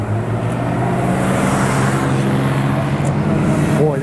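A classic teardrop-bodied car with a non-original exhaust drives past on a touring road event, its steady engine drone loud and continuous throughout, with crowd noise in the background.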